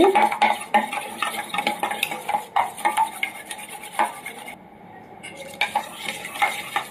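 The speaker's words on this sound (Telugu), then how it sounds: "ఇంక ఇప్పుడైతే ఈ మిశ్రమం మొత్తాన్ని అయితే మనము బాగా బీట్ చేసుకోవాలి." Omelet egg mixture being beaten in a bowl for a bread cheese omelet, rapid clinking and scraping of a utensil against the bowl in quick uneven strokes, close and fairly loud, briefly pausing near the end.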